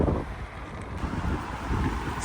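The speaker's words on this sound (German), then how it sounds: "Und ja, Wind ist aber ziemlich stark." Strong headwind buffeting the microphone while cycling around Lake Garda in autumn, a steady loud broadband roar with gusty swells throughout.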